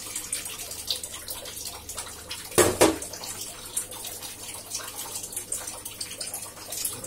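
Water poured into a pan of simmering egg curry masala, a brief loud splash and gush partway through amid steady bubbling and small clinks, with no talk.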